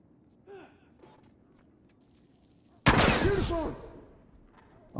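Burst rifle gunfire in The Last of Us multiplayer, a sudden loud rapid volley erupting after a few quiet seconds of faint ambient sounds, then fading away.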